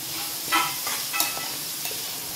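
Fresh green peas frying in a pan for a pulao, a gentle steady sizzle with a few soft stirring scrapes, close and moderately quiet, no voices.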